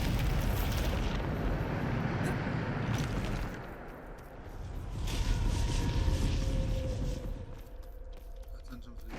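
Bombarda explosion spell cast in a Hogwarts Legacy battle: loud, rumbling blasts and roaring debris rise and fall across several seconds, with a second surge midway before tapering into a softer rumble.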